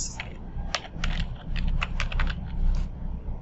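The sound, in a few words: typing code on a computer keyboard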